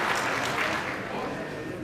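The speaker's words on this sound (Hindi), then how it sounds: "समारोह अध्यक्ष का भी हम तालियों की करतल ध्वनि से यहाँ पधारने पर स्वागत करें" An audience at a political ceremony claps in welcome, a dense continuous burst of applause that fills the whole stretch with steady intensity.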